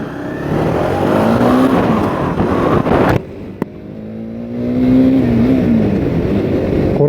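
Cars on a road in Bodrum during a curfew, passing a motorcycle one after another, heard as loud steady road and engine noise with rising and falling whooshes of vehicles going by close, and a brief drop in the middle.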